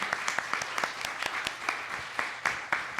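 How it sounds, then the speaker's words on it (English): An audience at a Langston Hughes birthday celebration applauds the evening's poets: a sustained, warm round of clapping from a modest crowd, with a few sharp individual claps standing out close by. "Can we have a nice warm round of applause for our poets this evening?"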